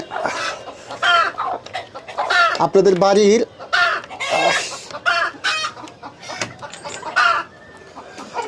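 A rooster kept for raising desi chickens clucks and calls loudly and close by in a series of bursts, with someone speaking over and between the calls.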